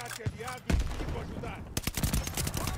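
An STG assault rifle fires in Call of Duty Vanguard, with sharp gunshots and short bursts of rapid fire mixed with other game sounds, while someone talks over the action.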